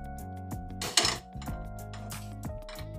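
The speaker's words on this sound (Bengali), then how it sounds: "এবার কড়াইটা চাপিয়ে দেব" A kadai (wok) is set on a lit stove for making carrot halwa, producing a single metallic clank over steady background music.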